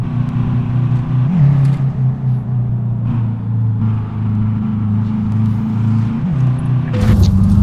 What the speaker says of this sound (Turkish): Arabanın sesi değişmeye başladı.